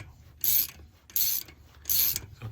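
A nut wound down a threaded stud on an R600 engine, three rhythmic bursts of gritty ratcheting or scraping with a fainter fourth, close and alone.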